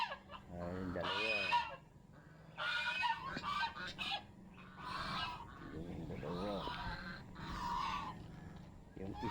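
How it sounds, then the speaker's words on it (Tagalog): Three domestic geese honk and call repeatedly at close range, loud harsh overlapping cries that come and go in bursts, with other fowl faintly in the background. "Pupunta natin yung aking tatlo pa ritong ganso."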